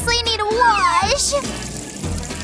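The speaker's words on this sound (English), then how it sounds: "Is that water?" Running water splashes over an old, dirty makeup sponge, a close broadband wash that swells and fades across the clip, with a cartoonish high voice chattering over it throughout.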